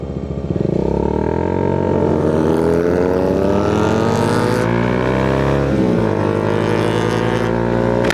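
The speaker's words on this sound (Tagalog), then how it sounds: "Na dinig ko yung motor mo." A Bajaj Dominar motorcycle engine runs steadily nearby during a night ride, its pitch rising and falling with revs, loud and continuous with no voices.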